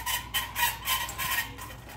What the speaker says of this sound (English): Can you hear the cart?